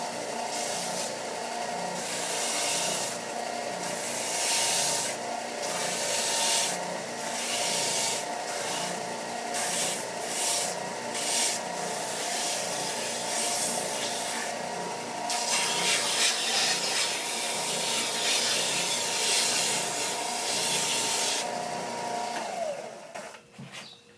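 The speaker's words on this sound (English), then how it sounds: "Now I'm just going to round off one edge so it'll fit in the hole" A wooden dowel rod has one end rounded off against a power sander or rasp, making a steady, continuous grinding rasp with a motor hum that carries through unbroken and shifts in tone slightly partway through.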